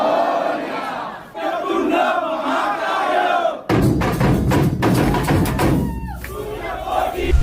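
A large crowd of devotees at a Ganesh festival at Krishna Haveli temple in Dubai fills the scene with dense, continuous crowd noise, chanting and cheering, growing louder and busier partway through.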